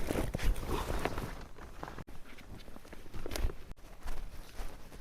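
Footsteps crunch along a rough, little-used forest mountain path on the way to a hermit's hut, a steady walking rhythm of soft scuffs and thuds at close range with no voices.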